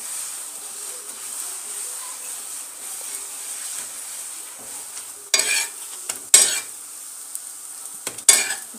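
Carrot chapati cooking in oil on a pan, a quiet continuous sizzle with a few sharper scraping and clattering touches from a utensil against the pan toward the end.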